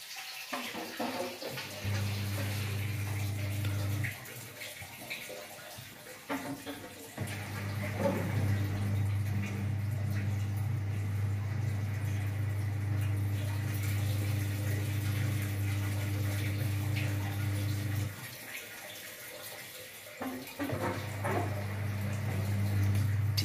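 AEG L98685FL washing machine drain pump pushing water out, a steady low hum with gurgling water that cuts out briefly twice and resumes, fairly quiet with no talk.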